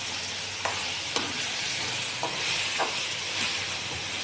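Green tomato chutney ingredients with green chillies fry in oil, giving a steady close sizzle broken by several sharp spoon-scrape clicks as they are stirred.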